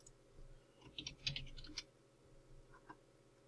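Light, quick typing on a computer keyboard, a short cluster of soft clicks near the middle of the stretch, faint and close in an otherwise quiet room.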